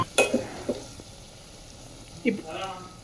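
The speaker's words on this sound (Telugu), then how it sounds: "రసంకి తాలింపు పెట్టాను" A tempering for tomato rasam sizzles in a pan in a few short, close bursts of crackling and spluttering, with quiet stretches between them, and a voice is briefly heard.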